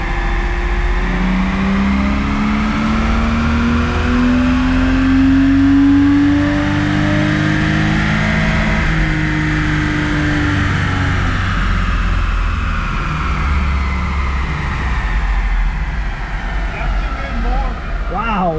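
Lexus SC300 with a 2JZ engine running on a dyno, a loud sustained engine note rising and falling through a rev sweep, with people talking nearby.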